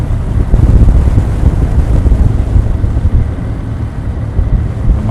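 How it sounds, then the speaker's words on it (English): Exhaust rumble of a Kawasaki W800 motorcycle while riding, a loud, steady low-pitched drone heavily mixed with wind buffeting on the microphone, no talking. "I want you to hear the original exhaust sound"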